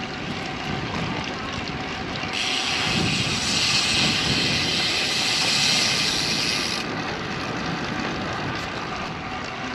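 Strong wind gusts of about 27 mph buffet a cyclist pedaling hard along suburban Kingwood streets, a steady low roar with a louder broadband surge in the middle, close and continuous without talk.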